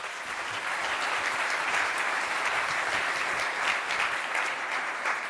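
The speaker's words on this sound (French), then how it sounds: "Vous pouvez les applaudir." An audience at a French tech conference talk applauds the incoming speakers, a dense, steady wash of many hands clapping that holds evenly for several seconds.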